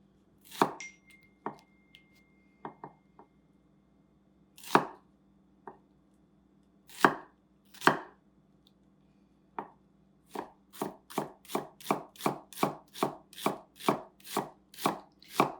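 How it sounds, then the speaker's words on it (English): Knife chopping an onion on a board, close and crisp: scattered single cuts at first, then a steady fast run of evenly spaced chops, with no voices. "Now I'm going to cut the onion."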